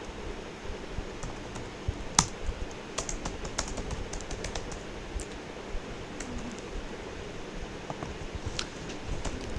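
Fast, continuous typing on a computer keyboard, with dense clicking keystrokes and occasional sharper taps throughout, fairly close and steady with no talking.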